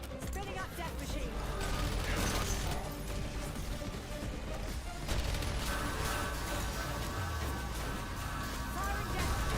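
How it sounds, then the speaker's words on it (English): The Death Machine minigun in Black Ops 6 Zombies whirs and rattles mechanically as it winds up, a loud continuous churn beneath layered game effects and shouting, and it keeps going for about ten seconds. "Spinning up death machine."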